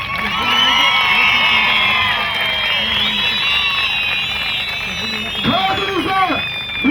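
A festival crowd claps and cheers in a dense, continuous roar, with whoops and shouts rising above the applause and a brief surge of louder voices near the end.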